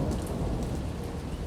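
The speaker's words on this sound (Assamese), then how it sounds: "ডাঙৰ বতাহ বৰষুণ দিছে" Heavy rain pours steadily in a wind-driven storm, a dense, continuous roar of falling water with low rumbling undertones, no voices over it.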